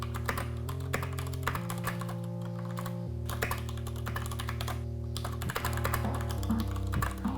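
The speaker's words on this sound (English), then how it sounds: "use Cherry MX Brown switches. This is a nice, comfortable typing experience while also useful for gaming" Close, steady typing on a Das Keyboard 4C TKL with Cherry MX Brown switches, a quick run of soft clacking keystrokes with no talking over them.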